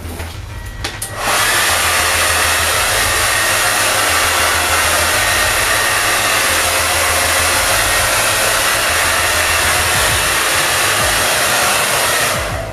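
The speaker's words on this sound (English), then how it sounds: "and then just blow dry again" A hair dryer blows steadily and loudly on spiked mohawk hair, starting after a brief quieter second and then holding a constant, close, whooshing roar with no talking.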